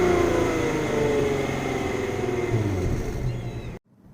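A 2007 Volkswagen Passat B6 4Motion wagon with the 3.6L VR6 and stock exhaust idles and revs with a steady, smooth, muted engine drone close by, cutting off abruptly near the end.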